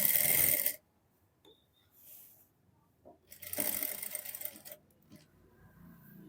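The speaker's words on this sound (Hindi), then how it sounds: "फिर यहाँ पे इस तरीके से सिलाई लगा देनी है।" A sewing machine stitches kameez fabric in two short, loud, close bursts of rapid needle clatter separated by quiet pauses and small handling sounds.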